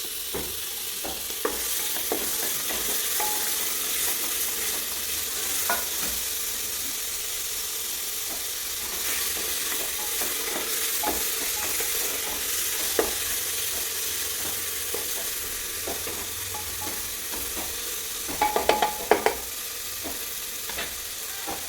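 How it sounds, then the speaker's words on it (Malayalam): Onion, green chilli and tomato frying in a pan for beef varattu, a constant close sizzle and hiss with scattered scrapes and a cluster of sharper clinks near the end, no one speaking. "നമ്മളെ ഉള്ളി നന്നായി മൂത്ത് വന്നിട്ടുണ്ട് കേട്ടോ."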